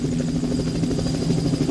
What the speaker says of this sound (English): Helicopter, huh?